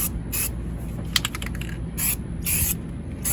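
Super Clean degreaser hisses from an aerosol spray can onto a rusted car part in short bursts, several separate sprays with brief pauses and faint clicking between them, close and fairly loud.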